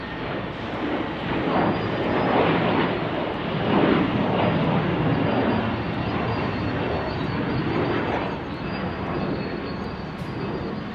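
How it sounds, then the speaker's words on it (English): A SkyWest Embraer E175 airliner at Salt Lake City airport produces a sustained loud jet engine roar that swells and holds steady for several seconds, heard alone without talking. "Our Embraer E175, a SkyWest special."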